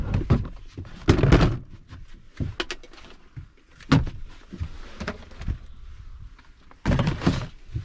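A Scamp camper door swings and shuts with several solid, close thunks and a firm latch, set among handling noises and rattles of gear being loaded back in.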